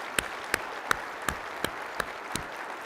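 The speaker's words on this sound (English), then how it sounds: "Another round of applause for our speakers." Applause for speakers at a floodplain management conference plenary, heard as faint, evenly spaced single claps about three per second rather than a full crowd burst, with no talking.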